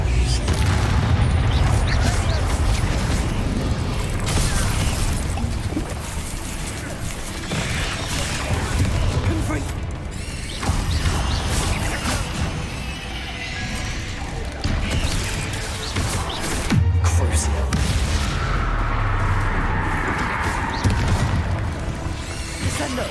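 Repeated Confringo blasting-spell explosions in Hogwarts Legacy land as heavy booms and crashes amid combat clatter, with several loud impacts over the stretch and game sounds throughout.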